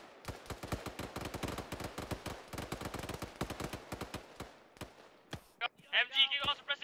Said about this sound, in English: MG, keep on suppressing, keep on suppressing.